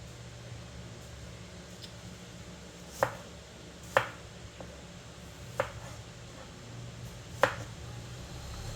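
A knife slicing food for frying, heard as a few sharp separate cuts spaced a second or more apart, close and fairly faint, over a steady background hum.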